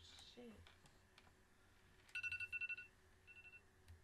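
A phone rings quietly in the background with two short bursts of rapid electronic beeping pulses. Soft room noise and brief vocal sounds surround the rings.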